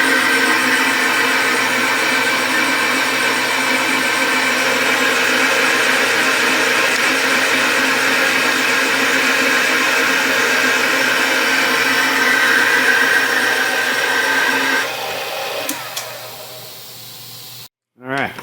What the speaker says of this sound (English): toss it back in the balancer. And we'll spin it again, see where we are